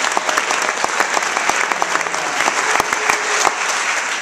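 A school faculty opening-day audience applauding, a dense, steady wash of many hands clapping close by with no pause for several seconds.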